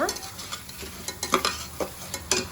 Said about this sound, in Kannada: ಕಡಲೆಬೇಳೆ ಉದ್ದಿನಬೇಳೆ ಹಾಕಿ ಇದು ಸ್ವಲ್ಪ ಬ್ರೌನ್ ಕಲರ್ ಬರೋವರೆಗೂ ಫ್ರೈ ಮಾಡ್ತೀನಿ